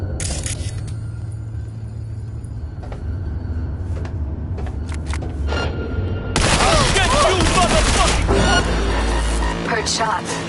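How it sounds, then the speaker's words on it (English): Gunfire in Cyberpunk 2077 breaks out as a loud, rapid burst of shots and clattering impacts over rumbling game sound, following quieter stretches with isolated sharp cracks. "Heard shots."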